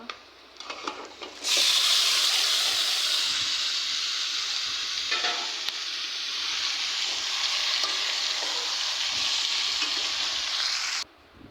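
Spice-marinated cutlets sizzle loudly in a hot pan, a dense steady frying hiss that starts abruptly after a brief quiet lead-in and holds close and strong until it cuts off near the end.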